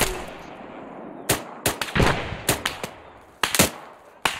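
Gunfire in the ARMA 3 video game during a hillside firefight, with a rapid, irregular series of loud cracks and bursts, some close and some slightly distant, over steady background noise.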